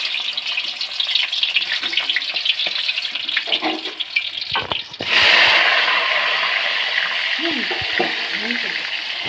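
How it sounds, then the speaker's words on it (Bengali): Potatoes for mutton biryani drop into hot oil, a loud, close frying roar that swells abruptly midway and then holds as a steady sizzle, with faint background voices near the end. "এবার আলু ভাজবো বিরিয়ানির জন্য।"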